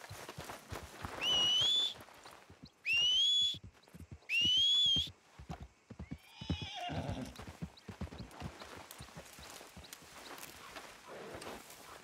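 Horse in Red Dead Redemption 2 whinnies loudly three times in quick succession, then a shorter neigh follows amid a steady clip-clop of hooves continuing at moderate level.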